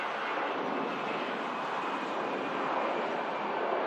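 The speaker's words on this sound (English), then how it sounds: "EasyJet, about to depart." EasyJet airliner departing Manchester Airport, a steady broad roar of jet engines heard from a distance, continuous and even throughout with no voices.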